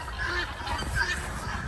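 A flock of guinea fowl calls in the snow, harsh honking cries overlapping steadily and fairly near, with no talk among them.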